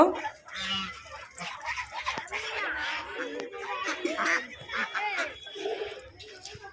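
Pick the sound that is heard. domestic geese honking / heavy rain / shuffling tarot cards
domestic geese honking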